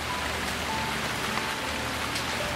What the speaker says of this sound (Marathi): आला आला म्हणता म्हणता पाऊस आला